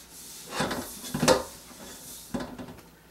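A cloth wipes around a metal wok being cleaned before seasoning, giving three scraping, rubbing bursts with quiet gaps between them, close and fairly loud.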